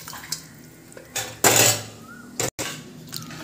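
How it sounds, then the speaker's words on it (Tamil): Cooked mutton tipped from a vessel into masala in a metal pan while making mutton kuzhambu, with scraping clanks of metal utensils and a loud wet pour-and-splash midway, heard alone and close. "வேக வச்ச கறியை மசாலாவில் தூக்கி ஊற்றியாச்சு."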